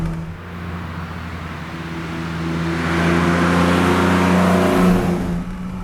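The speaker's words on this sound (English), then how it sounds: "That engine sounds brilliant. That is so good." A Datsun 280Z hot rod engine revs under acceleration, its deep harmonic drone climbing steadily in pitch and loudness, close and alone with no talk.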